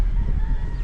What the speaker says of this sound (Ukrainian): що там півні кукурікають?